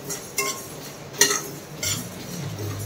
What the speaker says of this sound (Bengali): এইভাবে কিন্তু ডালটা ভেজে নিবে তোমরা